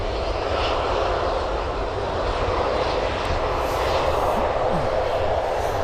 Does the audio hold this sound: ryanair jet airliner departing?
yes